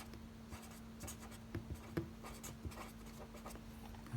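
Pen scratching across a label in short strokes, close and quiet over a steady electrical hum, with a few firmer taps along the way.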